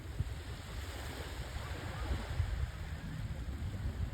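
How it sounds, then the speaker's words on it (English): Steady broadband rush of ocean waves breaking and surging along the shore, continuous and fairly loud, with some wind noise on the microphone and no voices. "Look at all of those waves."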